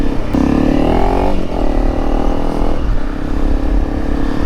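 A Honda CRF 300 Rally motorcycle fitted with a MotoX muffler runs loud and close. Its engine revs up and settles back in a couple of rising pulls, then idles with a steady throaty drone.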